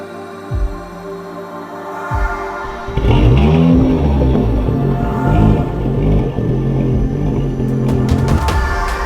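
A BMW M2 engine catches in two short bursts, then settles into a loud, continuous run with rising revs as the car pulls away and drives, close and unaccompanied by voices.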